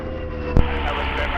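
CT4 and Winjeel trainer aircraft flying in formation at a warbirds airshow, a steady engine drone with one brief louder thump, continuous and fairly loud throughout.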